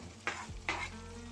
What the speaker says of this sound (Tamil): இஞ்சி பூண்டு சேர்த்துட்டு நல்லா வதக்கி விட்டுருங்க.